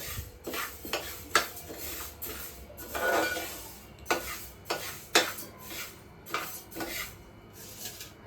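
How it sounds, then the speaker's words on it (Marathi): Fenugreek seeds are roasted and stirred in a pan on a gas stove, giving repeated clinks and scraping strokes of a utensil against metal at an irregular rhythm, fairly close and moderately quiet, with no talk. "मम्मी आता त्याला परतून भाजून घेते"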